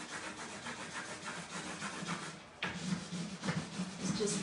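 A scrubby sponge rubs a transfer onto a wooden tray in steady back-and-forth strokes, a close, coarse scraping rhythm that grows slightly louder partway through.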